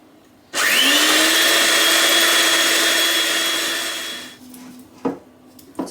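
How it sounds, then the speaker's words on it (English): An electric mixer whisks softened butter for keto cookie dough, whirring loud and steady for about four seconds before spinning down, followed by a couple of faint knocks. "and I'm adding the 70 grams of softened butter. And now all you want to do is whisk this for 3 minutes."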